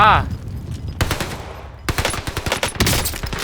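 Rapid automatic gunfire in a shooting video game, loud bursts of quick repeated shots separated by short pauses, with a faint voice in the background.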